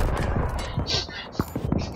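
Shotgun blasts and other gunfire ring out in a Battlefield 3 match, with several sharp close shots and thuds packed into a brief, busy burst, heard under a player's voice.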